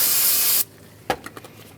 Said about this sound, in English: I'm going to spray some solvent on a clean rag